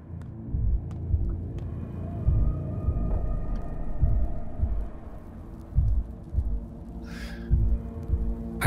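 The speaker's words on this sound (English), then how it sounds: "Because you can even hear the heartbeat." A low, throbbing heartbeat from the video game Pathologic 2 pulses steadily under a droning ambient hum, with one brief hissy noise near the end.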